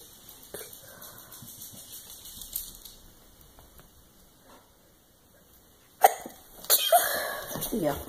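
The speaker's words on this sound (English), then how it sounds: "I'm about to sneeze." A single sudden sneeze from a person at home, a sharp close burst after a stretch of quiet room sound and soft movement, followed by a short breathy tail and some vocal noise.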